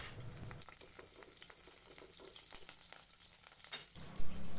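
Chopped green chillies sizzling and spitting in hot coconut oil in a pan, a dense continuous crackle close up with occasional stirring, ending with a low thump.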